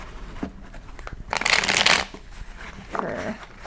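Tarot cards being shuffled by hand: a few quick riffling bursts, the longest and loudest in the middle, with short pauses between, close and clear.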